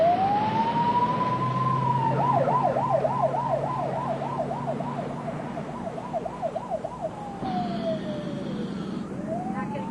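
An ambulance siren wails during an emergency call in New York, a long rising tone shifting into a rapid warbling yelp before sliding back down, loud over the steady rumble of the moving vehicle.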